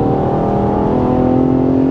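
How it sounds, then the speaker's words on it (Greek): Ferrari Purosangue engine held in a steady, loud, close hum with strong low harmonics during a gearbox downshift, with no talking. "Το σασμάν ακούει στα κατεβάσματα διαισθητικά απίστευτα."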